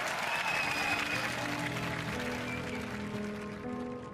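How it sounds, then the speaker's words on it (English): Studio audience at a Robot Wars grand final applauds steadily and loudly, a sustained wash of clapping that slowly fades slightly, with faint tonal music or hum underneath. "Let's give a huge round of applause to Aftershock and Eruption."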